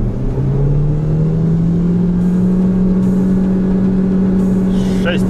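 A Chery Tiggo 4 in sport mode is held at full throttle up a hill on a highway, the engine droning at a high, steady pitch that rises slowly, with some wheelspin, loud inside the cabin.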